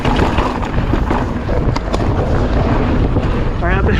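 Heavy, constant wind buffeting a microphone while riding a motor scooter through Post Canyon, a loud roaring rush that fills the whole clip, with a brief voice near the end.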